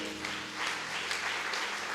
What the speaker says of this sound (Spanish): Dale fuerte aplauso por eso.